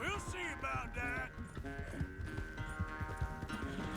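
Horse hooves clip-clop during a ride in Red Dead Redemption 2, quick rhythmic beats running beneath a voice and game music for a few seconds.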